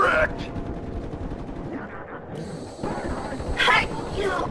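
Rapid SMG fire in Black Ops Zombies on the Moon map, bursts of shots cutting through layered game effects and an excited voice talking over them.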